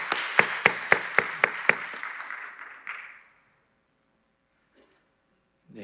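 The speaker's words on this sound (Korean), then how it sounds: "우리 박수로 좀 함께." A church congregation claps in a few sharp, rhythmic beats that blend into a short burst of applause after a hymn, then fade to near silence.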